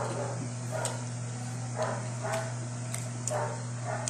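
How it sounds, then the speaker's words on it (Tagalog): Several short dog barks ring out at intervals over a steady low hum, moderately distant and not very loud. "Maingay yung aso."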